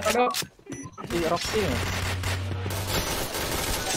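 Rapid bursts of gunfire in the War Clan video game crackle through most of the clip, with excited voices talking over the shots.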